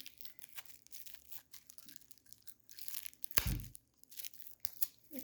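A collectible card pack is torn and crinkled open by hand, with scattered crackles and soft rustles, then one sharp loud rip near the middle and another brief tear toward the end, close and alone.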